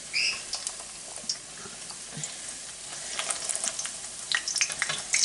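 Quiet crackling and popping sizzle of dough frying in hot oil, with irregular small pops scattered over a soft bubbling hiss.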